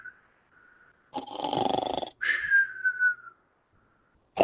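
A voice imitates a monkey snoring with a rough, rattling inhale followed by a long, falling whistled exhale, framed by faint whistling tones, close and clear.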